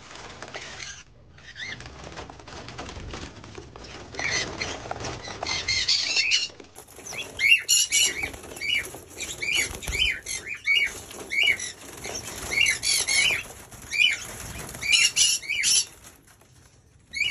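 Sparrows in a cage flap their wings in repeated busy bursts, with scattered chirps and squawks mixed in. The fluttering is close and keeps going throughout, with no talking.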